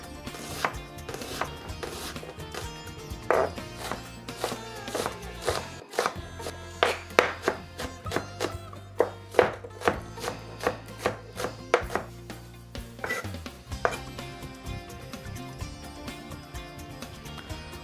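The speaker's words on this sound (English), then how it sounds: "So, I'm going to cut the onion" An onion being finely chopped with a knife on a board: a long run of sharp, rhythmic taps, sometimes in quick bursts, close and clear over a low background hum.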